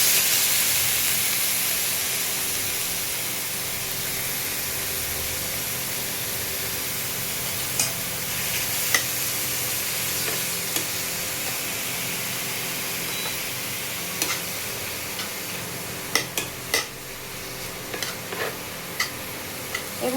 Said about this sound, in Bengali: সুন্দর পেঁয়াজ ক্যাপসিকাম ভেজে নিচ্ছি তেলের মধ্যে।